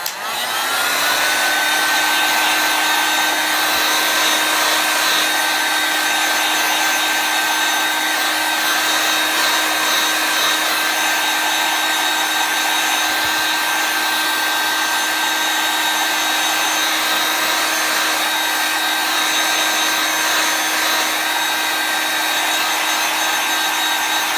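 A hair dryer blows steadily on a chalk-paste craft piece, a constant close whir with a high whine that runs unbroken and alone for the whole stretch.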